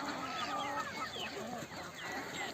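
Iranian chickens cluck softly on a poultry farm, a quiet, busy chatter of short overlapping calls from a small flock, with no clear voices over them.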